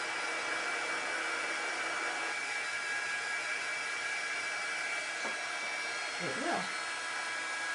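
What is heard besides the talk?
hair dryer drying silkscreen area with chalk paste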